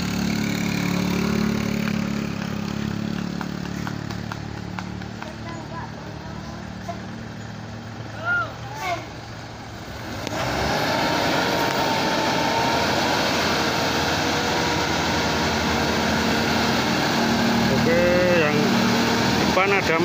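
A bus with a Mercedes engine labors and stalls on a steep uphill incline, giving a low, continuous engine drone under people talking and background traffic noise.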